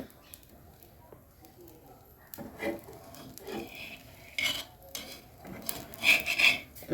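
Thin rice-batter chakli cooking on a tawa, with a spatula scraping and lifting it off in several short bursts of metallic clatter and rasp between quieter stretches.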